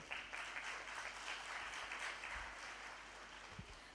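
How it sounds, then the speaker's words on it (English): Audience applause for a speaker at the Miss World Bangladesh 2026 pageant, a steady wash of many hands clapping, moderately distant and even throughout, with no talking over it. "Please give her a huge round of applause, everyone"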